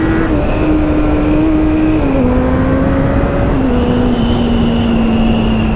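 A Suzuki GSX650F four-cylinder motorcycle pulls through a curve after a downshift, its engine note droning steadily and shifting pitch in a couple of small steps, loud and close with no voices.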